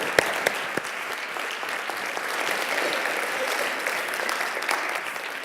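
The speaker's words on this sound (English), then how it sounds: "Please give a nice big round of applause for David Hornik." Audience applause for venture capitalist David Hornik as he is introduced, a dense steady wash of clapping with a few sharp close claps standing out, sustained throughout with no talking.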